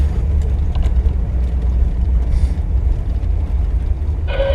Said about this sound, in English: We have to be quiet with the cars.